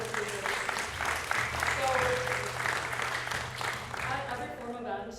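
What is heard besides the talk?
audience applause for panel speakers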